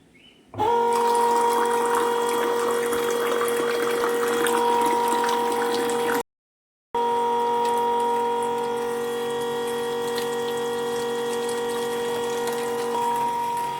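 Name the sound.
filling water from a pump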